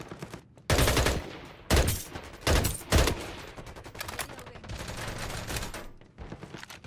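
Gunfire from a sniper rifle in the online shooter Farlight 84: four loud, sharp blasts about a second apart, followed by quieter rumbling game noise.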